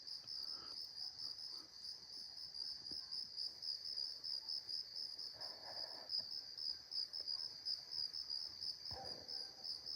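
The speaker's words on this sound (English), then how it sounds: "I'll be quiet here and let you guys hear the sounds of the crickets." Crickets chirp at night in a steady, high, pulsing trill that runs without a break. A few faint distant knocks and rustles sit underneath, and nobody speaks.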